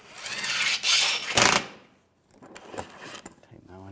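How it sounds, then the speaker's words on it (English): Bolts are tightened on the AC condenser of a 2013-2016 Dodge Dart 2.4L, with two loud close bursts of power-tool whirring, a short silence, then softer intermittent ratcheting and clicks. "Tighten all those down."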